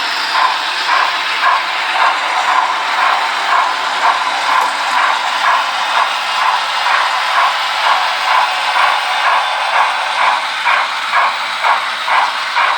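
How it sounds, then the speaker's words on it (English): A Broadway Limited model train locomotive running on a layout, its onboard sound giving a loud, steady rhythmic steam chuff with hissing, evenly pulsing throughout. "It's a Broadway Limited, this loco, but the sound's pretty good on it."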